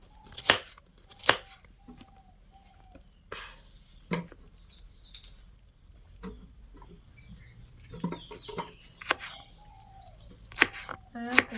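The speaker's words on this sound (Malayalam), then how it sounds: "ഇങ്ങനെ ഞങ്ങൾ ഇടിച്ചക്ക അരിയാറ്" Knife chopping through tender jackfruit, sharp close strikes coming in uneven bursts with pauses between, faint chirps in the background.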